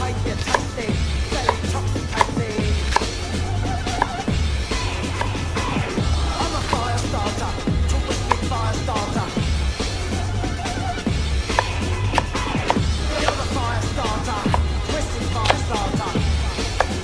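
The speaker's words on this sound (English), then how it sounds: "I'm going to cut up the vegetables. What I have here is a nice big size Spanish onion." A knife chopping a large Spanish onion on a board outdoors, a steady run of quick close cuts layered over a constant low sizzle from lamb stew cooking in a Dutch oven, with no talking.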